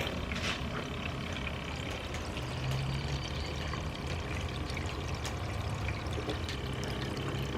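Water runs steadily over a sluice mat carrying very fine flour-gold concentrate from river mining, a continuous low wash and trickle with no breaks.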